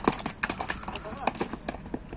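A racing horse gallops with quick, rhythmic hoofbeats that patter steadily throughout, heard close and under people talking.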